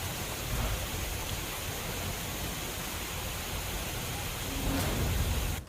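Heavy rain floods rural Devbhumi Dwarka near the Khambhalia–Porbandar highway, a loud broadband steady roar of downpour without pause, swelling slightly near the end; no voices.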